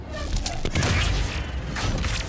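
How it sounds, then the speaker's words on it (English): Scorpion tank main cannon in Halo 5 firing with a heavy boom, followed by a dense, sustained rumble of explosive game noise over the whole moment. "While the main cannon is powerful, you have to charge up."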